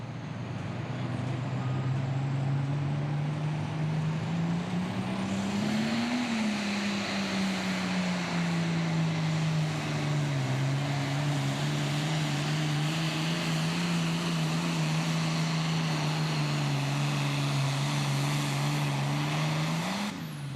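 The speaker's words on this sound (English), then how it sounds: "Dan Vinny comes up now with the Crank It Up tractor" The engine of the Crank It Up pulling tractor, an international-class machine at a pro pulling event in Wheatland, Missouri, roars loudly and continuously during its pull, its pitch rising and falling around a steady drone for about twenty seconds.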